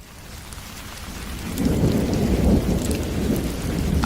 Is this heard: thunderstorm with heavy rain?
yes